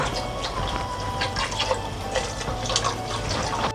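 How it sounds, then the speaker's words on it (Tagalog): Water pours into a pressure cooker holding beef skin and oxtail, a steady splashing fill that runs continuously at close range with small spikes of bubbling and sloshing. "Ngayon po ay pwede na nating lagyan ng tubig."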